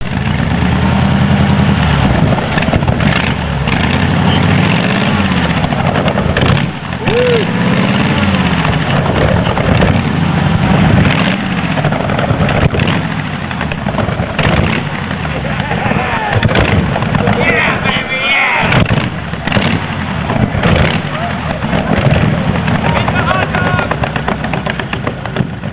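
A 1919 Willys T-Rat Rod hot rod with a 5.7-liter, 350-horsepower V8 and flame-shooting pipes runs with a loud, rough, continuous rumble and occasional sharp pops, close up and constant throughout.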